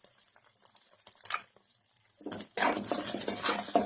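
Small-cut carrot and cabbage hitting a hot pan for egg fried rice, starting with soft clinks and stirring, then a sudden burst of loud, close sizzling that holds steady to the end.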